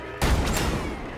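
Gunfire in the video game Batman Arkham Knight, a sudden loud burst of rapid shots with booming low end that rings and fades over about a second, with no talk.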